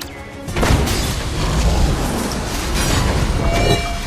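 A film explosion blows apart an elevator cable with a loud, sustained roaring blast that starts abruptly and rumbles on heavily for several seconds.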